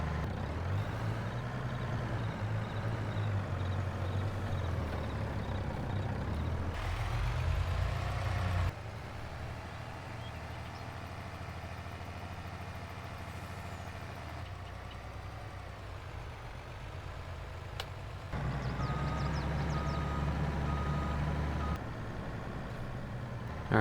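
A truck held in a low manual gear drones and strains steadily in Farming Simulator 22, a heavy continuous engine rumble whose pitch shifts between sections, with faint beeping over it.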